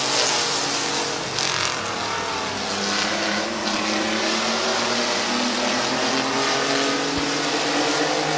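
Race cars circle an oval track at Midvale Speedway, their engines making a dense, continuous roar that holds steady and loud from start to finish, with no clear gaps between passes.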